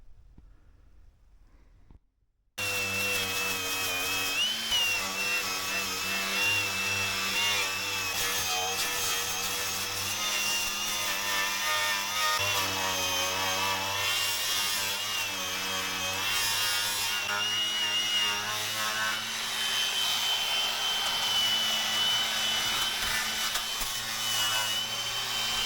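A power tool strips paint and rust from a VW T5 van with a loud, continuous abrasive whir and grinding drone that starts abruptly after a brief quiet moment and holds steady, close up, with no talking.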